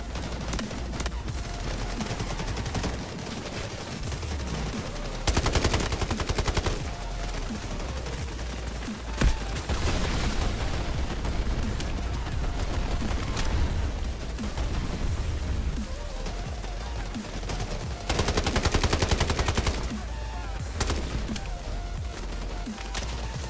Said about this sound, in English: Grenade launch!